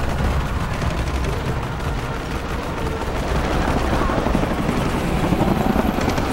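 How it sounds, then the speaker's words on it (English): Helicopters in the video game Shadow of the Tomb Raider give a steady, loud rotor drone that fills the scene, with rattling gunfire-like bursts mixed into the dense roar throughout. "Helicopters."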